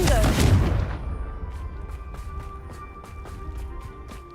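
A Confringo blasting spell explodes in Hogwarts Legacy with one loud booming burst at the start. The boom fades into a decaying rumble, followed by faint rhythmic pulses.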